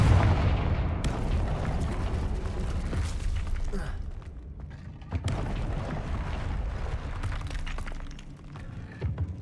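In Hogwarts Legacy, Confringo blasting spells burst with a shattering crack, two big explosions several seconds apart, each followed by rumbling debris and crumbling noise up close.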